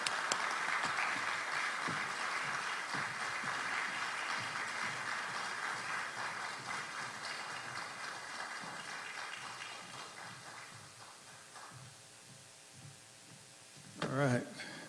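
An audience claps steadily to welcome a speaker, Bob Stewart, at a book reading, the applause starting fairly loud and thinning over about fourteen seconds, with a brief louder burst of noise near the end.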